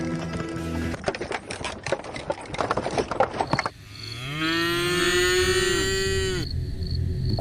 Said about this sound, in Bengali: গরু দুটি অস্থির হয়ে ডাকছে